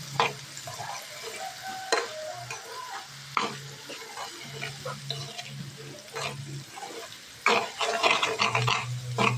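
Potato fry with chili powder being stirred in a pan: quiet scraping and clinking of a spoon against the pan comes in irregular strokes over a low sizzle, close by, with soft background noise and no clear talk.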